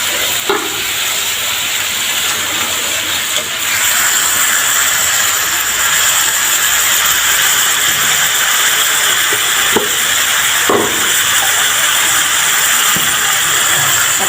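Tomatoes sizzling in a hot cooking pan, a loud, steady frying hiss throughout with occasional faint clinks, close and uninterrupted.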